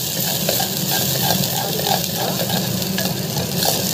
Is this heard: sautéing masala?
yes